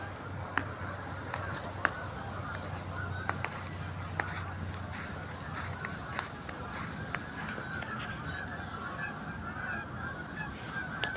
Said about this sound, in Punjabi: ਝੀਲ ਵਿੱਚ ਮੁਰਗਾਬੀਆਂ ਬਹੁਤ ਹੁੰਦੀਆਂ ਹਨ